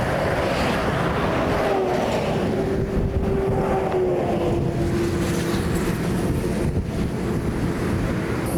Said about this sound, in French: vous avez pu voir quand même que ça roule vite là, et les poids lourds ils passent très proches